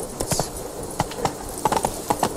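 Hooves of the horse Roach clop in an uneven trotting rhythm in The Witcher 3, moderately close and clear over a soft ambient bed.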